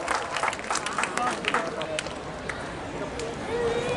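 Applause from an audience at a Surajkund Mela cultural show is heard as scattered sharp claps, strongest early on and thinning out, while a voice talks over them.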